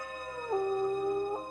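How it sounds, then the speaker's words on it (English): Recorded wolf howl sound effect played during a werewolf tabletop game, a single sustained mournful howl that rises, holds a long steady tone, then lifts again briefly, clear and alone. "I love the howls."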